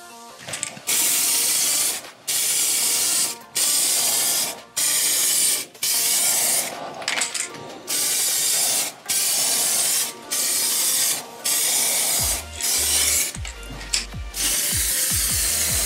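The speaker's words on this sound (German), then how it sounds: "dann nochmal in Sprühgang" Colormatic coating is sprayed from a spray gun onto BMW E53 or E39 headlight lenses in a dozen loud, even hissing bursts separated by brief pauses, close up in a garage.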